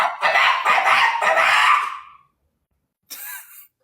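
A person imitates a chicken, giving a long run of loud clucking and crowing-like calls, then a pause before a shorter squawking burst.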